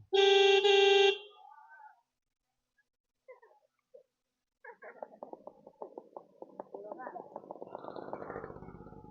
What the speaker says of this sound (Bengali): একটা হর্ন মারি।